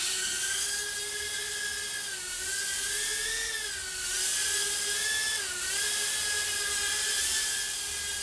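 A NIHUI NH-010 micro FPV racing drone flies on its maiden flight, a steady high-pitched motor whine that rises and dips in pitch as it maneuvers, loud and alone.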